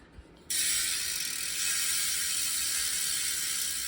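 A fast, buzzing ratchet clicks continuously after a short pause from an Industry Nine bicycle rear hub freewheeling; steady and close, with no talking.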